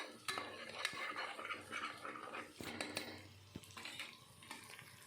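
Onion-tomato paste stirred in a cooking pot with a metal spoon, faint irregular clinks and scrapes against the pot over a low background, with no talk.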